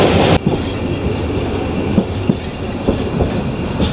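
Paharika Express passenger train on the Sylhet to Chittagong line rolling along, a steady rumble with rhythmic clickety-clack wheel beats, close and continuous after a brief louder burst at the start.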